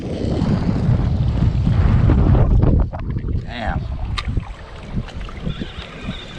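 Strong gusty wind buffets the microphone while catfish fishing ahead of Hurricane Sally near New Orleans, a loud roaring rumble for about three seconds that drops to lighter, fluttering gusts with a faint whine.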